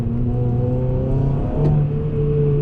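A 2007 Honda Civic Type-R engine revs steadily up close, its pitch climbing then dipping briefly at a gear change into second before pulling on again, loud and continuous with no talk.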